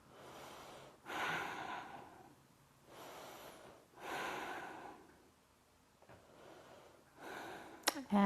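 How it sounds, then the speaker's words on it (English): Slow, deep breathing during a yoga pose, with about four long inhale and exhale swells spaced a second or two apart, close and soft in a quiet room. "And breathing here."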